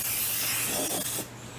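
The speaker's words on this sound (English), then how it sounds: "when I use the spray, I really spray it really well" Cooking spray hisses from an aerosol can into a cake pan in one short, loud, close burst that cuts off sharply near the end.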